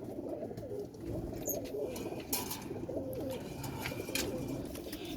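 Bateray pigeons cooing softly in a breeder's loft, repeated low throaty coos layered over a dull ambient hum, with a few faint chirps and clicks.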